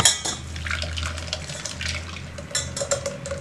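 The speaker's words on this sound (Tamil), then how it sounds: "இப்போ இத நல்லா வடிச்சுக்கலாம்" Freshly blended fruit juice being strained in a kitchen, with liquid pouring and splashing alongside light clinks and scraping of utensils against a metal strainer or bowl, close and continuous.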